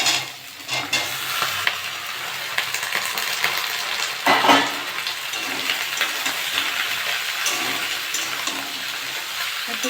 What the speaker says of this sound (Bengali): বেগুন আলু একটু ভেজে নিয়েছি।